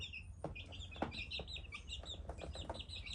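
A flock of backyard chickens clucks and chirps continuously at close range, with scattered sharp pecks and scratches mixed into a low rumbling background and no voices.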